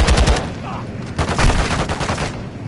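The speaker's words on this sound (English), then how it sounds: "who is shooting me?" Rapid bursts of gunfire from a Call of Duty: Modern Warfare 2 campaign mission crackle loudly and continuously, with dense automatic fire and overlapping shots filling the whole stretch.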